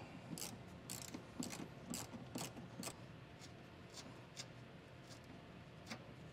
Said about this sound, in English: I'm using a small ratchet with a 1/4 inch bit in there to get this removed.